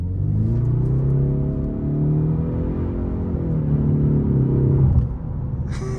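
A 2026 Ford Mustang EcoBoost accelerating hard from inside, a loud, steady engine rumble with rising harmonics that climbs through close gears, easing briefly near the end before a short shift.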